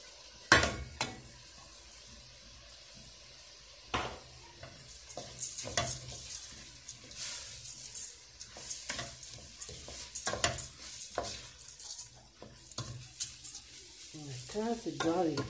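Rice and minced meat balls cooking in a pan, a low sizzle of frying under repeated scraping and stirring strokes, with occasional knocks of a utensil against the pan and clinks near the end.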